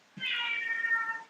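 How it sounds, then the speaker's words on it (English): Domestic cat giving a single drawn-out meow close to the microphone, clear and fairly loud against a quiet room. "Yeah, that's my cat."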